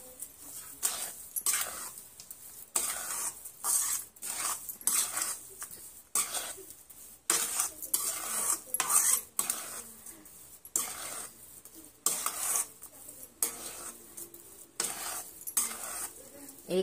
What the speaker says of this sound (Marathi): आणि आता ह्यात आपण ड्रायफ्रूट जे तळून घेतलं होतं ते घालूया. हे देखील आता आपण मिक्स करून घेऊ.